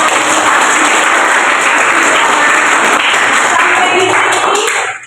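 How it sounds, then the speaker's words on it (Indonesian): Loud, dense applause from a group of students at a school health talk, continuous clapping filling the room at full volume before cutting off sharply at the end. "Tepuk tangan dulu dong buat kakak ini."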